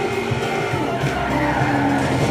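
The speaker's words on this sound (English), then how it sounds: "Bad idea to drift." A car drifting and skidding in Forza Horizon 3, a loud, continuous screech of tires over engine noise, close and sustained across the whole moment.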